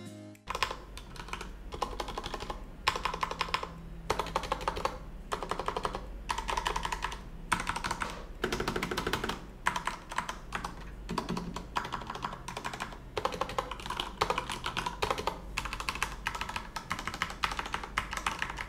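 Fast typing on a Corsair K70 RGB TKL mechanical keyboard gives dense, crisp clicks and clacks in quick bursts with short pauses, close and continuous with no speech.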